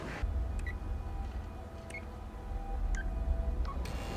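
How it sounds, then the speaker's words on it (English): Quiet phone keypad beeps from a TV show, a handful of short separate tones spaced about a second apart over a low background hum. "how can you tell the beeps? Like, which beep is which number?"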